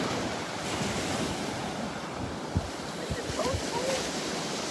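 Ocean waves wash onto the beach at Delnor-Wiggins Pass State Park in North Naples, Florida, a steady surf hiss mixed with wind buffeting the microphone and a few soft thumps.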